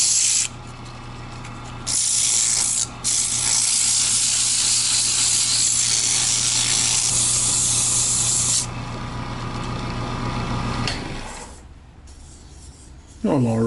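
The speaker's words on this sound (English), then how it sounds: "let's hit this with some sandpaper and clean it up." A sunburst necklace pendant is sanded with sandpaper: a loud, steady, close-up rasping hiss continues for about eleven seconds with brief breaks, then fades into quieter scraping.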